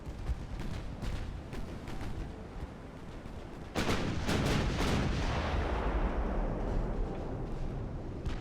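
The 6-inch secondary guns of a battleship fire in Ultimate Admiral: Dreadnoughts, a rapid series of booming shots that swell into a heavier rolling barrage with rumbling low blasts.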